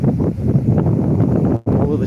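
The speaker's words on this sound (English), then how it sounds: "Maybe you can't hear me because it's very windy." Strong wind blows across a beach on a sunny day, a steady loud roar of buffeting against the microphone, briefly dropping out near the end.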